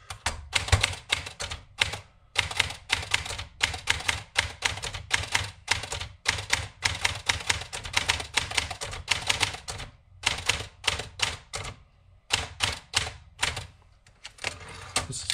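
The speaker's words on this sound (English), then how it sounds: "The Olympia Splendid 33 from 1963. This is just such a lovely portable machine." A 1963 Olympia Splendid 33 portable typewriter typing in quick crisp strokes, steady runs of sharp key strikes broken by brief pauses, close and clear.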